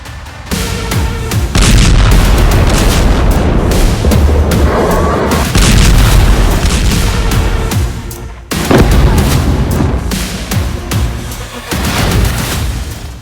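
Missile launches and explosions ring out from Iranian underground missile bases on the Persian Gulf coast, with loud, dense booms and rumbling blasts that run almost continuously, broken by a brief lull before another heavy barrage.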